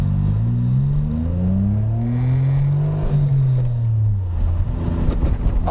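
Suzuki Cappuccino three-cylinder engine revving, a steady low droning note that climbs and falls in pitch in smooth sweeps before roughening toward the end, close and loud with no talk.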